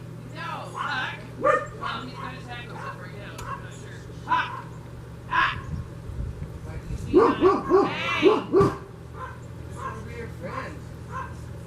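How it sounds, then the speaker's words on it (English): Several dogs bark in scattered bursts, a louder flurry midway, over a steady low hum and background voices. "Sorry about the dogs."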